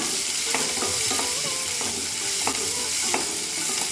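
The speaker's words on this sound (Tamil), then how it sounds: "வெள்ளைப்பூடு சேர்த்துக்குவோம் கட் பண்ணி வச்சுருக்கேன் வெங்காயத்தையும் சேர்த்துக்குவோம் அதுவுமே நல்லா வதக்கிடுவோம்" Garlic and onion sautéing in a pan for a village-style kumutti greens curry, with a steady sizzle of frying and repeated stirring scrapes at a fairly even rhythm, close and alone with no talk.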